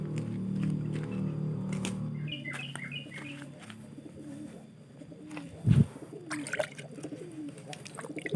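Pigeons coo with low, throaty repeated calls close by, mixed with chirps, rustling and occasional wing flaps in an outdoor setting.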